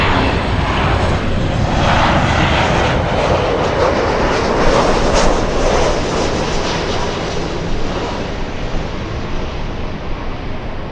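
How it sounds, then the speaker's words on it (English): A Delta airliner arriving at LAX from Austin, Texas roars loud and close for the whole stretch, a dense, steady jet engine rumble and whine without any voices. "Delta flying in from Austin,"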